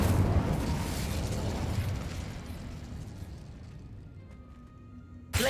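The Incendio fire spell cast in Hogwarts Legacy: a loud, rumbling burst of flame that slowly dies away, followed by a sharp crack near the end.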